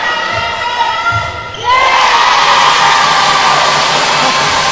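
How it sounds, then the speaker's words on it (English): A sellout crowd at a Europe Netball Open Challenge match between the Isle of Man and the Republic of Ireland erupts into a loud, sustained roar of cheering after a brief, quieter stretch of arena murmur. "The crowd go absolutely nuts."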